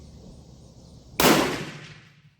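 A Berthier model 1916 rifle fires a powder coated cast bullet outdoors: one sharp, loud report with a rolling decay over low background hum.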